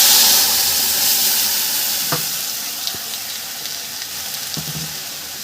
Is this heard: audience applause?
no